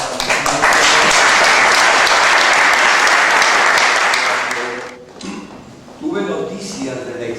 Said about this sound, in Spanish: Quiero pedir fuertes palmas, por favor